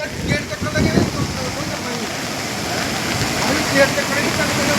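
Heavy water rushes and roars steadily as the flooded Ravi River in Punjab pours past, with people shouting over it.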